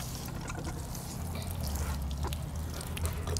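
Water pouring onto freshly transplanted carrot seedlings in a garden bed, a steady soft splashing and trickling with a low rumbling background, continuous and moderately close with no talk.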